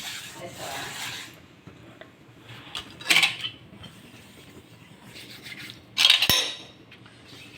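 Copper and silver vessels scrubbed by hand with tamarind, close rasping rubs with two louder bursts of metallic scraping and clatter, faint between them.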